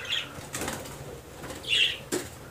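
Bursts of fluttering wing flaps from a budgerigar in flight, a few short flurries with pauses between, fairly close and moderately loud.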